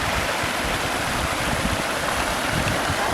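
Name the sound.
water flowing down rapids and stream of a pond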